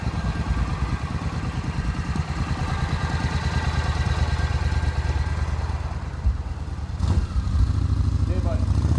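A 1994 Suzuki Intruder 1400 V-twin motorcycle rumbles past on a street, a loping, throbbing engine beat that swells and then fades, with a brief clatter near the end.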